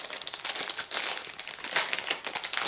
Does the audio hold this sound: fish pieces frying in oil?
no